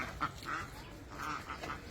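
Ducks quack repeatedly in a rural village, a few short nasal calls in loose succession over light background noise, fairly close.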